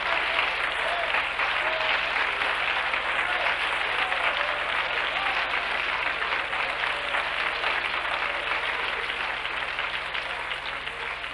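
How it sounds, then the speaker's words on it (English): A church congregation clapping hands at a prayer meeting: a steady, dense roar of many hands clapping together, evenly loud throughout, over a low constant hum, with no voices standing out. "Come on and clap your hands"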